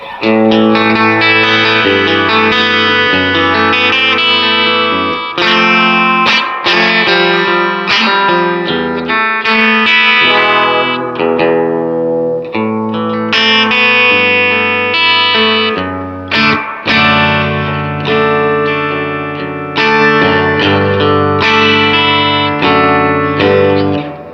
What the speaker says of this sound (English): Let's go ahead and crank the reverb up.